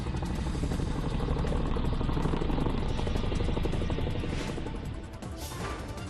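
A loud, continuous roar from Rafale fighter jets in an Air Force Day flypast fills the air, thundering close overhead and easing slightly toward the end.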